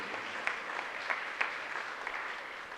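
Soft applause from a church congregation during a Tamil Catholic novena mass, faint and distant, with a few sharper individual claps standing out from the low steady patter.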